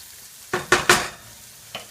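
Food stirred in a pan with a little canola oil, three quick scraping sizzle bursts close together, then a pause and one more, close and clear, no talk.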